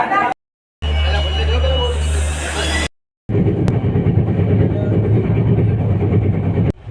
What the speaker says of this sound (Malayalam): റെയിൽവേ സ്റ്റേഷൻ എത്തി അങ്ങനെ ഭോപ്പാൽ.